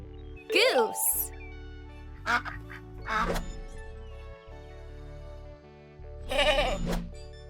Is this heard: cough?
no